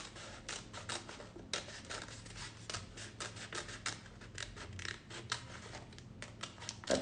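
Scissors cutting fabric close around a sewing pattern while prepping a hoop, a quiet close-up series of repeated snips and soft rustling, with no voices.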